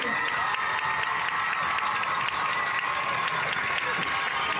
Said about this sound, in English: give her a round of applause, your 2021 SHS Homecoming Queen, Miss Aishan